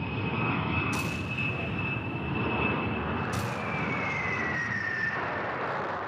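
Heavy B-52 bomber engines drone continuously in a loud, sustained roar with a steady high whine running through it and two brief hissing surges.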